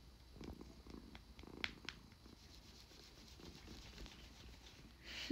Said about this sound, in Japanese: ゴロゴロですね、ずっと